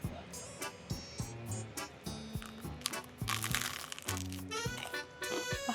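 Close, crisp crunches as someone bites and chews toasted baguette, irregular bites with crackly textures and some quiet sounds in between.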